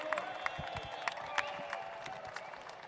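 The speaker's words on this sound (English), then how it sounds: "Give a round of applause for their build." Scattered applause and cheering from a crowd at a Harley-Davidson custom bike show, fairly faint and distant, with a few sharper claps standing out.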